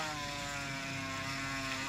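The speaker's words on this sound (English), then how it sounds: "So grab your drill and you'll feel your piece getting hot" A power drill bores a hole through a handmade button, giving a steady, continuous high-pitched whine with strong harmonics that stays loud and close with no pauses.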